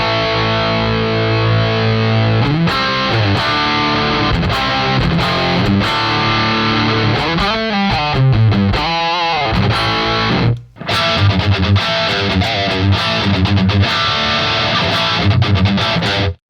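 Heavy mid-gain 80s electric guitar tones through a PolyChrome DSP Lumos amp pedal, loud and distorted, with dense strummed chords and riffs, a brief sharp cutout near the end, then chugging resumes.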